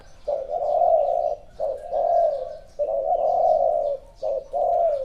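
A spotted dove coos repeatedly nearby, soft low hooting phrases in a rhythmic pattern with short pauses between them.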